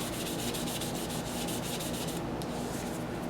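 A wooden box spins on a lathe while being sanded, a steady close rubbing hiss with a faint rhythmic pulse that runs without pause throughout.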